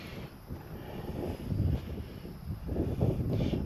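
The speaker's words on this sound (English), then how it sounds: "Unfortunately, it's kind of breezy out here, and that doesn't help." Breezy outdoor wind buffets the microphone in uneven low rumbling gusts that rise and fall throughout, with no other clear sound.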